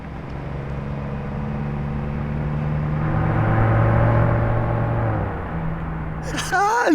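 A Lamborghini Temerario engine, a loud rumbling drone that swells and builds, then drops back before a sharp higher rev burst near the end, with people talking over it.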